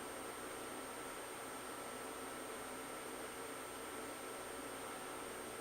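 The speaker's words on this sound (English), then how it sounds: "I don't think they fixed the dryer back there yet." A clothes dryer runs in a back room, a steady, fairly faint broadband whir that holds unchanged throughout with no talk over it.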